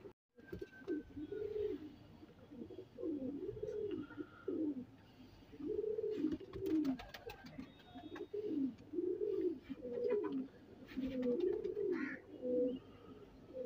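A pair of pigeons, an Ali Wala male and a Teddy female, coo repeatedly in soft, rolling phrases at close range, with a few faint chirps and light rustling between the calls.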